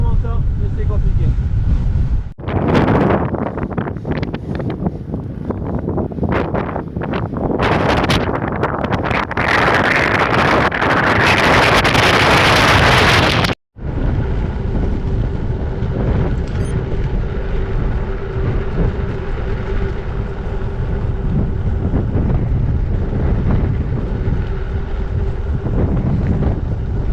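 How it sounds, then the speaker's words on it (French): Strong headwind roaring into the microphone while cycling on a major national road during an ultracycling race in Morocco, a loud continuous buffeting rush that fills the clip, briefly cutting out midway, with someone speaking over it. "Mais waouh, quel vent de face!"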